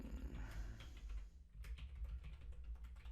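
Quick keystrokes tapped on a computer keyboard, a steady run of light clicks with a brief pause midway, close and fairly quiet with no talking.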